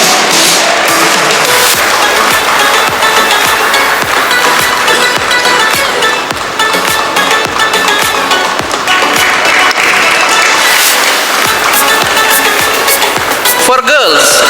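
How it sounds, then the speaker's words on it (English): Crowd applause and cheering for sports champions at a college polytechnic annual day celebration, loud, continuous clapping mixed with music and crowd noise in a large hall, with a sharp burst near the end. "I request everyone to cheer them and give them a big round of applause"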